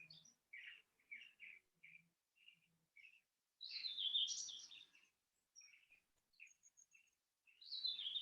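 Songbirds chirping and tweeting outdoors somewhere off at a distance: short, high repeated chirps in scattered bursts, with a longer, busier trill in the middle, all faint against quiet surroundings.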